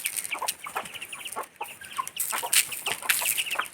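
Native country chickens cluck and squawk in a lively, overlapping chorus at close range, with short repeated calls coming in quick, irregular bursts.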